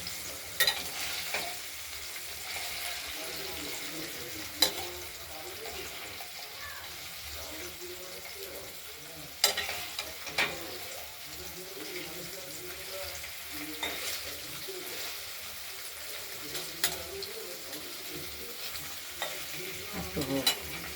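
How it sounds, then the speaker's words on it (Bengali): Paneer cubes frying in a pan for a potato and tomato curry, a steady soft sizzle with occasional stirring scrapes and clinks throughout, fairly quiet, with faint intermittent voice in the background. "দেখতে থাকুন, পনিরটা ভাজা হোক।"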